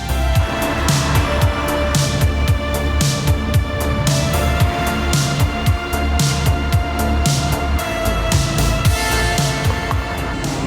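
A train from Uelzen passes close by near Lüneburg, a loud continuous rumble and clatter with repeated sharp wheel and rail clicks over the whole stretch, no voices.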